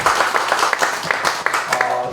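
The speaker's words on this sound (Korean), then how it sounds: "박수로 한번 감사의 박수 한번 드리겠습니다" A church congregation at a revival society inauguration service claps together in steady, rhythmic applause that stays fairly loud and even throughout, with a few voices mixed in.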